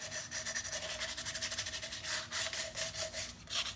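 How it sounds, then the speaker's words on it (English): Rapid rhythmic rasping strokes scrape back and forth steadily as the cut edge of a glass bottle is sanded, a close gritty rubbing sound repeated many times without pause. "we're going to do a little extra sanding"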